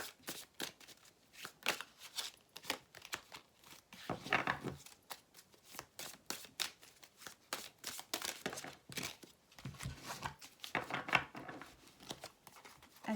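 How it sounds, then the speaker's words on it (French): Tarot cards being shuffled by hand, a long run of quick riffling bursts and soft papery flicks, close and fairly quiet, with no talk. "Alors, on va prendre les cartes du tarot."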